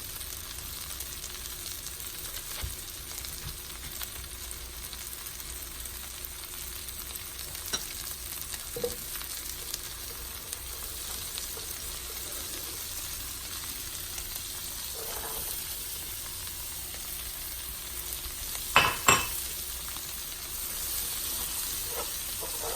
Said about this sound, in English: Onto our butter, we're going to add our onion.